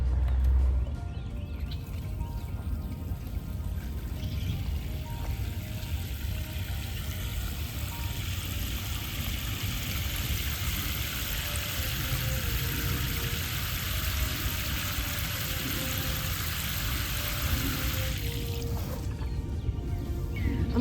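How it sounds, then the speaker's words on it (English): Water pours steadily into a dug hole around a tomato plant in dry garden soil in North Texas, a continuous soft trickling wash that runs for about seventeen seconds before tapering off. "I'm wanting to fill up the hole with water and let that sink in"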